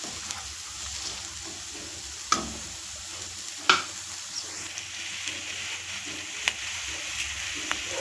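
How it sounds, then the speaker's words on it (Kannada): Onions sizzle in hot oil in a pan for a bamboo shoot and green gram fry, a steady soft crackling hiss with occasional sharp clicks of a spoon stirring against the pan. "ಎಣ್ಣೆ ಹಾಕಿ ಈರುಳ್ಳಿ ಹಾಕಿ ಅದು ಚೆನ್ನಾಗಿ ಈರುಳ್ಳಿಯನ್ನು ಬಾಡಿಸ್ಕೊಳ್ತಾ ಇದ್ದೀನಿ"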